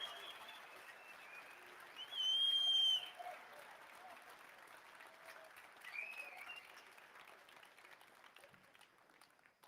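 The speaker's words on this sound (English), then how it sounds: "Please welcome him to the stage with a big round of applause." Faint, distant crowd applause at an Alberta independence rally in Calgary, light and steady under a brief whistle-like tone and some background voices.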